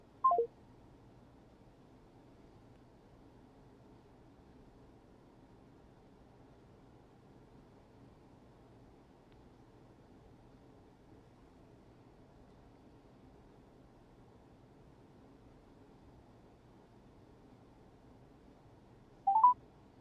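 Touch-tone telephone keypad beeps sound while calling back a number: one short tone burst at the very start and another near the end, with a long stretch of faint line hiss between them.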